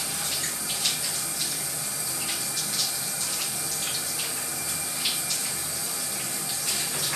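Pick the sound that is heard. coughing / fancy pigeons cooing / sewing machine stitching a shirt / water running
water running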